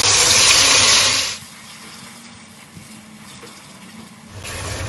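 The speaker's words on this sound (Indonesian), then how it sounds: "minyak yang bekas tadi ngegoreng udah panas, kita masukin lagi, kita tumis lagi sampai dia matang" Blended fried chili paste hits hot, previously used frying oil with a loud, bright sizzling hiss that quickly subsides into a quieter, steady sputter, then swells again near the end.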